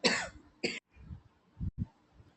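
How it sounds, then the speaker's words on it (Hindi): A harsh cough bursts out, then a second shorter one, followed by a few low throat-clearing grunts, close and alone. "आज काफ़ी दोबारा से फिर थोड़ी सी खांसी बन गई है"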